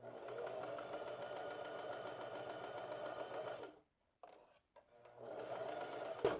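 Sewing machine stitching a wrap skirt-shorts, a steady fast mechanical whirr that stops briefly for a few seconds, then starts again, close and fairly quiet.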